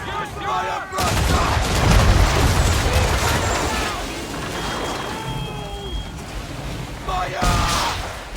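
Ship cannons boom repeatedly in an Assassin's Creed III naval battle, loud heavy blasts rolling over one another amid continuous battle noise, with shouted voices mixed in.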